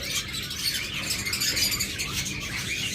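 Birds at a bird farm chirp and call in a dense, continuous overlapping chorus, fairly close and loud, with no speech.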